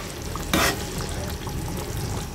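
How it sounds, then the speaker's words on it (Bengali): Fried potatoes are stirred into a pot of spicy chicken biryani, a brief scrape and clatter rising over a soft, steady sizzle close by. "এখন আমি ভেজে রাখা আলুগুলো দিয়ে দেব। এটা দিয়ে আমি একটু নেড়ে ছেড়ে 5 মিনিটের জন্য আবার ঢাকনা দিয়ে ঢেকে রাখবো"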